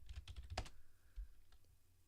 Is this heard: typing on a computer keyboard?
yes